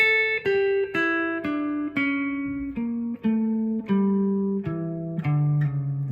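A melodic instrument plays a descending scale of about a dozen distinct notes with an Arabian, Middle Eastern flavor, steady and clear with no voices.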